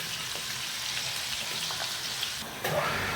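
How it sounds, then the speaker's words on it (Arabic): Sausage sizzling steadily in a hot pan, the first half of a batch browned before onions go in; a continuous crackling hiss with a brief louder burst near the end, no talking. "انا هحطه على مرتين عشان انا عايزه اشوحه كويس قبل ما اعمل له البصل"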